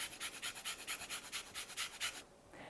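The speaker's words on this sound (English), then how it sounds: "I'm just going to grate a little lemon zest right into it" Lemon zest is grated over almond flour with a quick run of about a dozen close, soft scratching strokes in an even rhythm, stopping shortly before the end.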